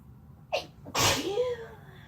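One person sneezes close up while lying against another: a short sharp inhale catch, then a single forceful burst that trails into a fading voiced tail.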